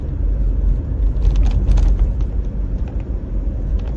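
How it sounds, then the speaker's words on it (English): Diesel engine clatter inside the cabin of a Mitsubishi Pajero automatic, heard as a steady, dense low rumble with a faint ticking edge that continues unbroken for the whole stretch, with no talking over it. "you can hear that diesel clatter every time in the cabin"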